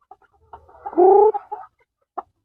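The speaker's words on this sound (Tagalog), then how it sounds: "Yan, tandang. Ito, tandang din." A rooster on a farm gives a short, hoarse, gargling call close by, one strained note rising in the middle, followed by a faint cluck and a brief sharp sound.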